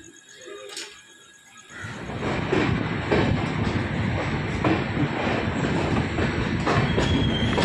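A passenger train from Bengaluru to Mysuru rolls steadily along the rails with a continuous rumble and rhythmic clacking, building up after a quiet start.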